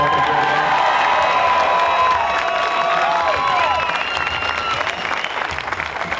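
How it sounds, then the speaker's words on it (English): An outdoor crowd at an evening racing team gathering claps and cheers steadily, with whoops and children's shouts mixed in and voices talking through the noise. "Can I have a big round of applause for them?"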